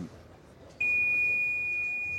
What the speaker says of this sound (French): Alors ça c'est le bip, hein. Vous savez qu'il y a un timer